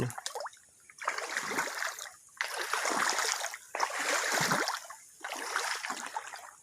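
Water flowing in a small forest stream rushes in steady, surging waves with brief lulls between them, close and moderately loud, with no voices.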